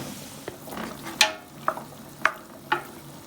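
Pork for Milanese cassoeula stirred in a pot, a soft steady sizzle of frying meat punctuated by several sharp scraping clacks of the utensil against the pot, close and at moderate level.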